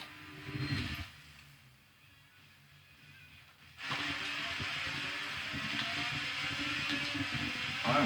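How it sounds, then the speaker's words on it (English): Indycar engines race at Sebring in the rain in Forza 7, a muffled whir that drops quiet for a few seconds, then surges back as a loud, steady engine drone with spray-like hiss. "in this game, these cars sound exactly like V8 Supercars"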